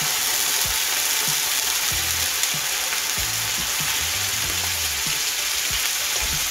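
Pan-fried salmon sizzles steadily after a splash of Japanese cooking sake (rice wine) hits the pan, a dense, continuous frying hiss with a few soft knocks, close and fairly loud.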